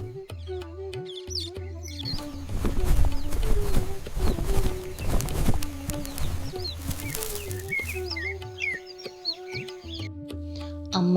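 Village birds calling from trees at evening, mostly chicken-like clucks and crowing with chirps scattered over a steady background hum, busiest in the middle stretch and thinning toward the end.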